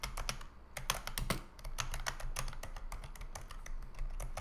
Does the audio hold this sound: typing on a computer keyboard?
yes